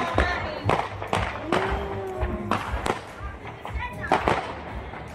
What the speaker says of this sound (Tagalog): Ayun, ang fireworks ng kapitbahay.